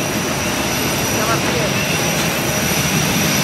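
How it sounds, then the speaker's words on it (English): A jet airliner's engines whine and roar steadily nearby on the tarmac just after landing in Germany, loud and continuous, with people talking over the noise. "That's the airplane behind me."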